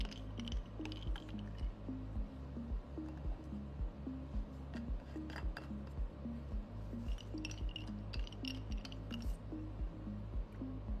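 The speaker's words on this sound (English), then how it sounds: "Cap all samples and mix thoroughly." Capped lab sample containers are mixed in a steady repeating rhythm of sloshing liquid with faint clinks, quiet and close, and no voices.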